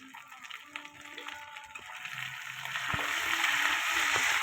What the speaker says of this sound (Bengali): এবার ভেজে নেব একটা তেজপাতা আদা কুচনো দুটো শুকনো লঙ্কা জিরে দিয়ে দিলাম ফোড়ন